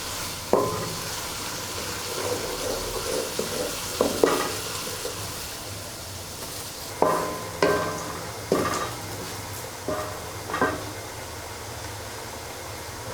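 Onions fry in a pan over a medium flame on a dhaba-style stove, a continuous sizzle marked by repeated loud scraping stirs every second or so, with no voices.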